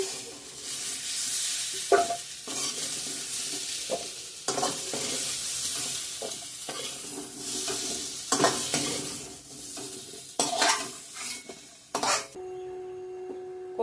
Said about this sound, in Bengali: ভেজে নিয়েছি ভালো করে আলু ওল নামিয়ে নেবো